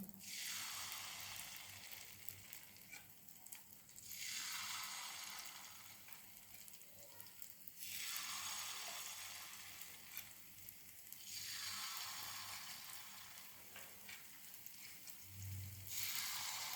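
Rava and rice-flour batter ladled into ghee in a pan, a faint, hissing sizzle that swells and fades in slow waves every few seconds, quiet and distant with no voices.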